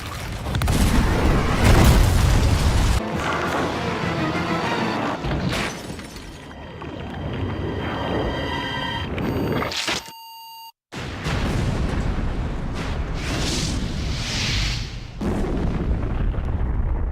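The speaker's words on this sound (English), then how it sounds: "leave Birkin to die in the explosion from the lab behind them" Lab explosion in the video game Resident Evil 2 remake, heavy booming blasts and shattering debris with electronic beeps and tones, a brief drop to near silence, then more rumbling destruction and music.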